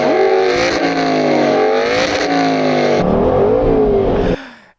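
Aston Martin Vantage GT8 with a 4.7-litre V8 revving hard in a series of loud, close blips and sustained pulls, then dropping away sharply at the end.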